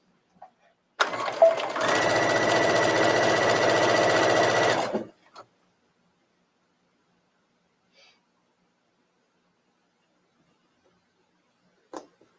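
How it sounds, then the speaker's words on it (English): A sewing machine set to a straight stitch runs one steady, even burst for about four seconds while stitching a seam on a trench coat, then stops, leaving near silence with a few faint clicks. "Set my machine again to a straight stitch."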